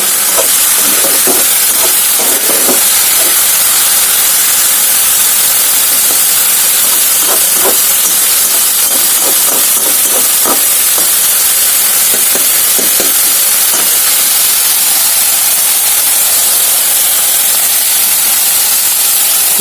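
Tomatoes frying in a pan over a high flame, a steady loud sizzling hiss throughout, with soft clinks of stirring scattered through the first part.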